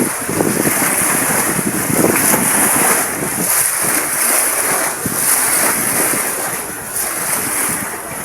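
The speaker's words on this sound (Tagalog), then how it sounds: "nagsimula na ang malakas na hangin at ulan" Strong wind roars steadily over crashing surf at sea as rain begins, a dense continuous rush with gusty swells and no voices.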